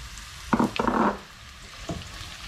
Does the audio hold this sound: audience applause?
no